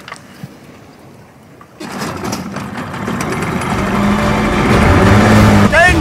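An engine in a video game starts and builds into a steady running drone that grows louder over several seconds, with voices talking over it.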